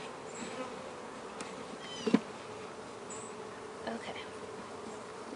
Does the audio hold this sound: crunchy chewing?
no